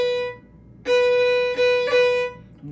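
An Irish traditional fiddle phrase, tied and cut with a light grace-note tap, opens with a sustained note. A sharply articulated repeat of the same pitch follows, broken by quick flicks, played close without accompaniment.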